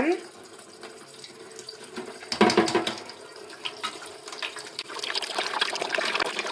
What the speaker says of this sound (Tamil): இந்த பால் குண்டாவை நீங்கள் சிங்கில் வச்சுட்டு அதுக்கப்புறம் நம்ம இந்த பால் குண்டா ஃபுல்லாக நம்ம தண்ணி திருப்பி விட்டுக்கலாங்க